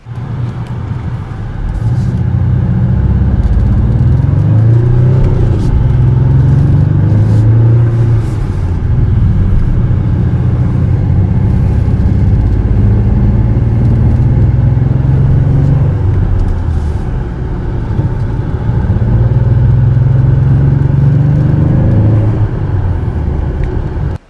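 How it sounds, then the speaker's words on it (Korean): Inside a The New SM6 on a circuit test drive, its synthetic V8-style virtual exhaust note hums loudly and continuously, rising and falling in long pitch sweeps as the car accelerates over a low road rumble. "특히 이제 저 가상 엔진 음이 들리거든요"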